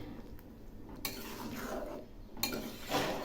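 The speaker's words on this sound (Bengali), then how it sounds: "এখন নেড়ে চেড়ে নামাবো।" Mixed five-lentil dal finished with ghee is stirred in a cooking pot, a few soft, quiet scrapes and taps of a metal spoon against the pot.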